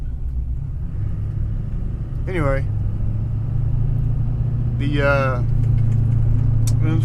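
A 1999 GMC Yukon's 5.3-liter V8 runs at a steady low idle, a constant deep rumble close by while someone talks over it.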